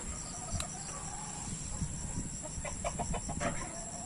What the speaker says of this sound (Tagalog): kasalukuyan akong nagpapatuka ng mga manok